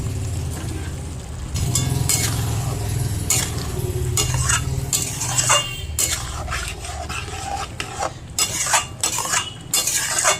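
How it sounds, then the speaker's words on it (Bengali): Chicken pieces in onion paste and yogurt marinade stir-fried in a pan, with a steady close sizzle broken by repeated scraping and clinking strokes of a spatula against the metal. "এটা কষেই যেতে হবে, এই কষাটাই কাজ। কষতে কষতেই মাংসটা সেদ্ধ হয়ে যাবে।"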